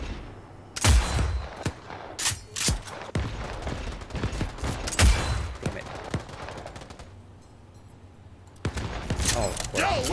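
Gunfire in Cyberpunk 2077 rings out in sharp bursts and single cracks over game ambience, with a quieter lull near the end before more shots, while a player speaks briefly.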